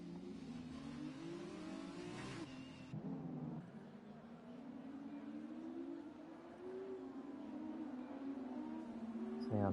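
Formula race cars in the F1 2020 video game scream through the Monaco tunnel during an F2 league race, high engines rising and falling with gear shifts and one car's note cutting off, under commentary.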